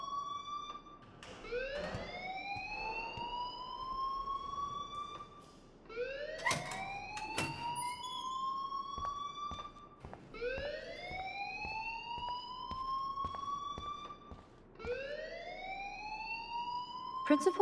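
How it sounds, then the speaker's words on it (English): A school fire alarm in the video game Life Is Strange, a rising siren-like wail repeating four times in a steady cycle, with faint talk underneath. "please turn off that alarm since that's your job"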